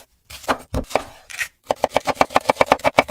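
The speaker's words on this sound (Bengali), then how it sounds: "আরে মালিক একটু আস্তে আস্তে কাটো না" Onions chopped with a knife on a board: a few separate heavy cuts, a short pause, then a quick even run of about a dozen sharp, close chops.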